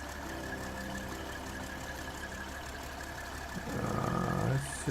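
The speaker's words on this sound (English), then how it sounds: "I know my engine's still running." Truck engine idling in Snowrunner, a low steady rumble with knocking texture that grows slightly louder near the end, with no talking.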